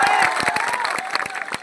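A crowd at a political rally in Bihar claps and cheers in a dense burst of hand claps with shouts mixed in.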